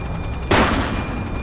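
A single sharp gunshot cracks out mid-clip during a police shootout in the video game The Precinct, a loud broadband burst that decays over a rumbling game backdrop.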